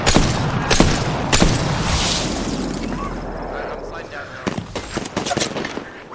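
Gunfire in Apex Legends: a rapid run of loud, sharp shots with bursts and cracks over a dense battle rumble, and players talking over the fire.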